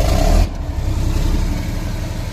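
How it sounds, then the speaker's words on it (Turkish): Volvo L150G wheel loader diesel engine, running with its exhaust removed, catches with a loud low burst and then settles into a steady, close, rumbling idle. "Ben şimdi bir çalıştırayım,"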